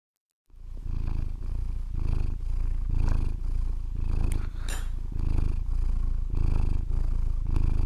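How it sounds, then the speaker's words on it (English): A cat purrs close to the microphone, a loud steady rumbling purr in rhythmic breaths that begins abruptly after a moment of silence and continues alone. "Oh my god, cat, calm down."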